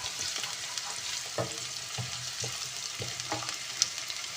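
Onions frying in a pan as vegetable fried rice is prepared, a soft continuous sizzle with a spoon scraping through them in a slow, irregular stirring rhythm, close and fairly quiet, with no talking.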